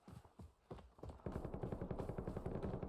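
Sniper shots in the battle royale shooter Warzone, with several sharp cracks spaced apart, then a rapid patter of impacts or footsteps building to a steady, moderately loud rhythm.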